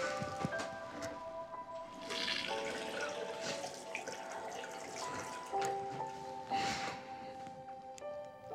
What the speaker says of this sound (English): To hear the water running meant a lot to me.